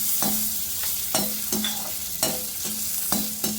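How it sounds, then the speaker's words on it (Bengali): Cashews and raisins frying lightly in a pan, with repeated sharp scraping stir strokes roughly every half second over a soft, steady sizzle, close and alone without talk. "তাহলে কিশমিশটা একটু দিয়ে দেবো, একটু হালকা করে ভেজে নেবো"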